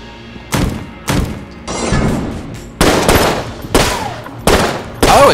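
A gun in the video game Enter the Gungeon fires repeatedly, each loud, punchy blast booming out and decaying into a brief tail, about eight shots in an uneven rhythm.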